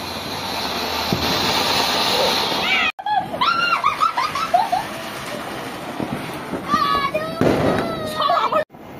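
Firecrackers set off at a family Kali Puja evening gathering: sharp bangs and crackling bursts over a constant noisy outdoor background, with whistling, rising tones and people's voices mixed in.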